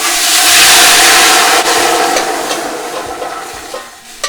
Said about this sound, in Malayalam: നമ്മുടെ ആ ബാക്കിയുള്ള വെള്ളം ഇതിലേക്ക് ഒഴിച്ചു കൊടുക്കുക.